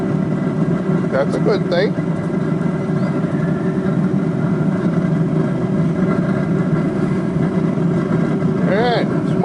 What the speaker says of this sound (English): The old blower's really kicking in.